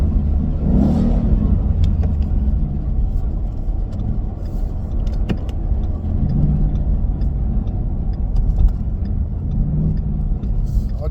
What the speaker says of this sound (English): Give a little rev under the bridge here